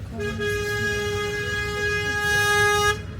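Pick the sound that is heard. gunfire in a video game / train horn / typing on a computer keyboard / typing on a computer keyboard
train horn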